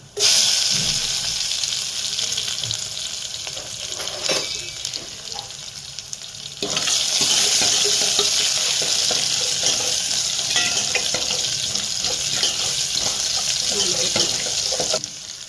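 Coriander seeds and garlic fry in hot oil in a pan, a steady loud sizzle that runs the whole time and swells as more is added midway, with faint stirring scrapes underneath.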